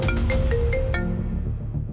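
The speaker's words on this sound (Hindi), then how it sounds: "आचार्य जी, आपका फोन बज रहा है, बात कर लीजिए।" A mobile phone rings with a repeating electronic tone in several quick pulses, then cuts off about halfway through, leaving background room noise.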